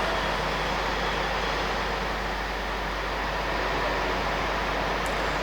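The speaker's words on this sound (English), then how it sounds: "The London train departs." A London-bound train pulls away from a station platform, a steady broadband rumble and rail roar holding evenly and fairly loud throughout, with no voices.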